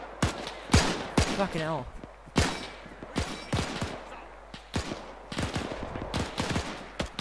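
Gunfire from enemies in the video game Arma during a D-Day battle while holding a town: sharp shots and bursts crack repeatedly throughout, some near and loud, others farther off, with someone talking and swearing between them.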